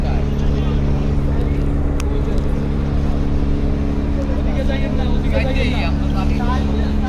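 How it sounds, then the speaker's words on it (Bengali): Passenger launch Shuvoraj 9 turning slowly near a river ghat, its engine a steady, loud low drone throughout, with people talking and calling out over it. "ওদিকে যাইয়েন না এদিকে টানেন একটু একটু করে ঘুরে গেল শুভরাজ নয়"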